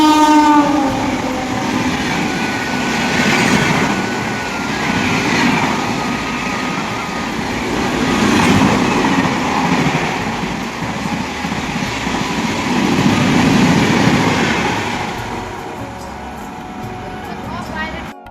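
A train passes near Chakpur station, close to a fair, sounding its horn early on over a loud, continuous rumble of rolling wagons that stays steady before easing off near the end.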